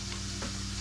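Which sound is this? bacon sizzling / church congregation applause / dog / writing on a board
bacon sizzling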